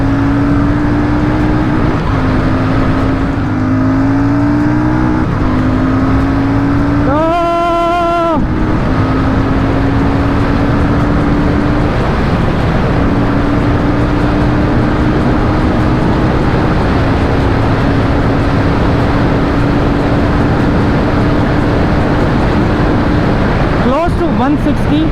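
A Royal Enfield Super Meteor 650 motorcycle is ridden hard, with a loud, steady engine drone that climbs in pitch through the gears. There is a brief shift break, and wind roar runs under it the whole time.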